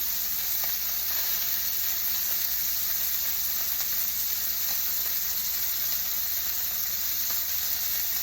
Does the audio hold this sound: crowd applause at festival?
no